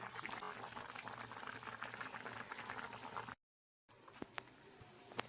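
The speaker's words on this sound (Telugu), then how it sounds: "మనకు ఉడుకుతుంది టమాటా మునక్కాయ" Tomato and drumstick curry simmering in a pot, a soft, faint continuous bubbling and hiss that briefly drops out, then resumes with a few small pops and clicks; no talking.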